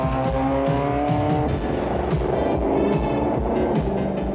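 Race cars in the Frontier 500 celebrity grudge match pulling away from the start one at a time, engines droning loud and close with a steady throbbing rumble and faint tire noise, no talk.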